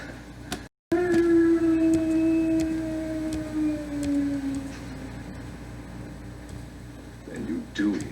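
An eerie, drawn-out howl wavers and slowly falls in pitch in the Twilight Zone episode 'The Howling Man', sounding in a stone hermitage, sustained for several seconds over a low hum.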